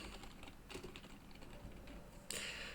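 Quiet, steady typing on a computer keyboard: a continuous patter of soft key clicks, closing with a slightly louder burst of keystrokes.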